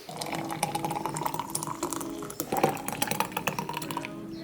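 Tap water runs steadily while muddy spinach is rinsed, giving a continuous close splashing with soft rustles and clatters of leaves and hands.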